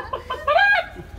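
A rooster or hen gives a short run of clucks, with a brief louder, drawn-out squawk in the middle, close and clear over a steady low hum.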